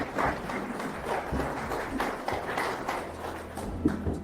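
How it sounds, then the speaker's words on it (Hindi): Audience applause for a speaker at a medical talk in a hall: steady, dense clapping from many hands throughout, fairly loud and even, with no clear voice over it. "एक बार मैं चाहूँगा कि आदरणीय आरबी द्विवेदी सर के लिए ताली बजाइए आप लोग।"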